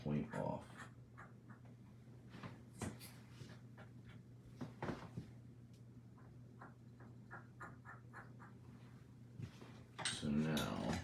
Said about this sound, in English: comb this hair down, and just cut that point off